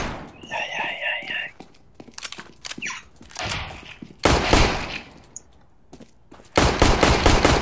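Video game gunfire rings out in loud, sharp bursts of rapid automatic shots, with quieter gaps between volleys and voices talking in the background.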